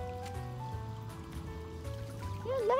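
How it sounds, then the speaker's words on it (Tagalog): Water trickles and gurgles into a dry, cracked rice paddy, a soft continuous flow with a low engine-like hum underneath, no voices over it. "Kaya, dito ako ngayon, lagyan natin ng tubig"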